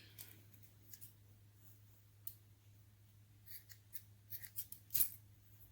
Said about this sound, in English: We're just gonna cut this with our scissors.